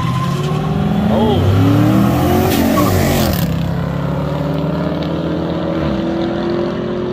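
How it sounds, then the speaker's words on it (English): A Mustang and a Charger drive past close by, their engines roaring loudly and steadily with rising and falling pitch as they go by, while people talk over the noise. "we got a Mustang and a Charger"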